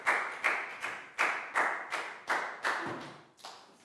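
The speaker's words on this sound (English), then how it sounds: "High five and a big round of applause for Bangpon" A small group of Year 4 pupils claps for a classmate in a classroom, about nine loose bursts in an uneven rhythm, close and fairly quiet, with no talking over it.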